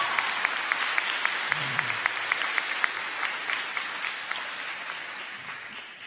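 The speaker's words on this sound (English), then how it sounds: "This is your opportunity to clap your hands, okay, for your coordinator." Sustained audience applause for program coordinators at a university convocation, a dense steady patter of many hands clapping throughout and slowly tapering toward the end.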